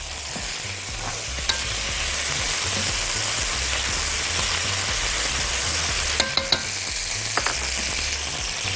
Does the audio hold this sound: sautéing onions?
yes